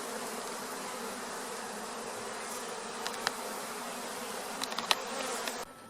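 Steady, close buzzing of many honey bees humming together, with a few sharper clicks and taps near the end.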